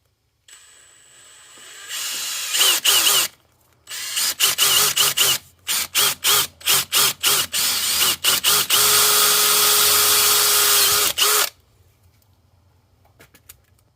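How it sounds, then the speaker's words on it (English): A power drill with a 3/16 inch bit whines up, then runs in a series of short bursts before one long continuous drilling run, loud and close, drilling a hole for an ebike cargo rack clip. "drill the hole using a 3/16 inch drill bit"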